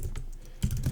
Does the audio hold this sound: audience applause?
no